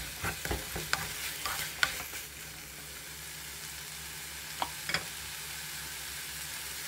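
Onion and green onion being stirred into kimchi stew in a pot, quiet soft sizzling with a few scattered scraping clicks from the spoon, no talking.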